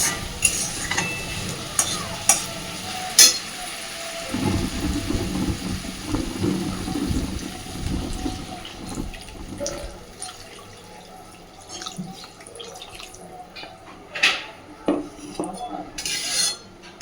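Water splashes into a pan of boal fish curry with half-cooked potatoes and spiced oil, a rushing pour lasting a few seconds amid utensil clinks and a soft sizzle.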